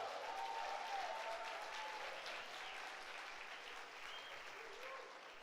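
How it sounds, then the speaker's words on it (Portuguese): A church congregation at a Sunday service applauds steadily, a soft, even wash of many hands clapping at a distance, with faint voices mixed in. "Pode aplaudir."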